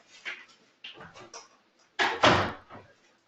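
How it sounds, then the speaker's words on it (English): A dog pushes open an indoor door, giving a few soft creaks and knocks followed by a louder thud of the door swinging, close by and quiet. "Got a dog that just opened the door and walked in on me."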